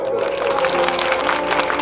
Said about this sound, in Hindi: एक बार जोरदार ताली बजा दो आप लोग